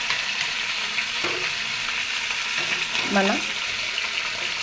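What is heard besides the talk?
curry leaves frying in oil for peanut chutney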